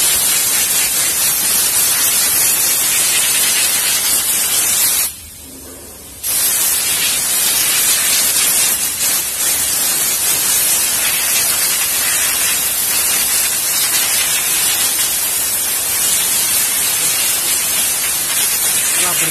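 Steady, loud hiss of compressed air spraying continuously onto a car AC filter from a Toyota Alphard, broken by one brief pause before resuming at full force.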